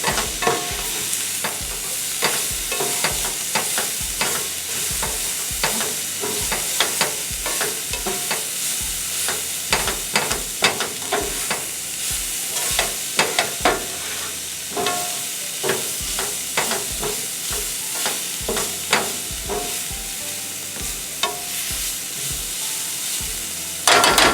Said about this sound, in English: my little spatula and stir this up a little bit